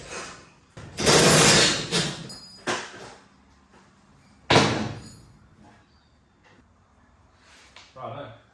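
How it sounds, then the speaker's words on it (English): A garage roller door is unbolted and taken down, with loud metallic bangs, rattles and clunks in bursts, followed by quieter handling noises, and someone talks between the impacts. "Time to remove the roller door."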